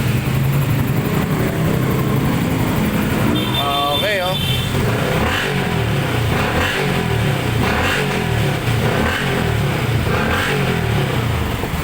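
A Yamaha Sniper 155 motorcycle engine runs steadily in neutral right after starting. A loud, continuous mechanical hum lasts throughout, with a person talking over it.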